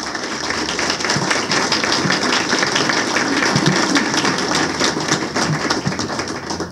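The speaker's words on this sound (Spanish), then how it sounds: "Pedimos un fuerte aplauso para los homenajeados" An audience at a ceremony at Lima's Superior Court of Justice applauds the honorees, producing a dense, steady patter of many hands clapping at moderate loudness with no voices heard.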